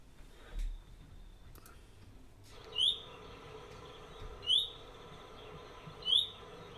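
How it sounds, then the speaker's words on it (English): A chaffinch call played back from a bird identification app: three short, sharp, identical high chirps spaced about one and a half seconds apart, quiet and alone against a faint background hum. "it tells you that this is a chaffinch. And you can again scroll down and find the simple call."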